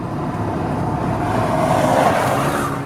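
A Skoda Octavia RS engine drones steadily throughout, its pitch swelling slightly midway, with a coarse, raspy edge and no voices.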